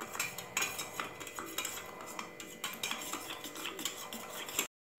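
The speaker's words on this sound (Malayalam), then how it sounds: "ഇനി ഇത് എല്ലാം നല്ലോണം ഒന്ന് ഇളക്കുക" A spoon clinking and scraping against a glass or bowl while a summer drink with salt and sugar is stirred, rapid close taps and clatters for several seconds, then silence.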